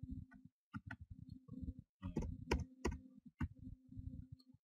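Keys on a computer keyboard pressed in quick bursts of clicky, close taps with short pauses between, a faint muffled typing rhythm heard on its own.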